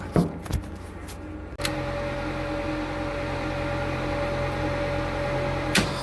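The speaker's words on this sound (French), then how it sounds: "Je démarre mon compresseur." A refrigeration compressor kicks on after a few clicks and handling noises, then settles into a loud, steady mechanical hum with a faint tonal whine, running continuously nearby.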